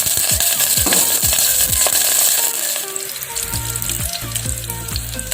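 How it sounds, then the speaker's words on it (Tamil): Green chillies fry loudly in hot oil for mutton keema, a dense close sizzle with rapid crackling pops and spatters throughout, no voices. "பச்சை மிளகாய் நல்லா வதங்கிடுச்சு"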